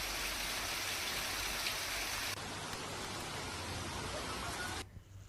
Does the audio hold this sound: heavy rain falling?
yes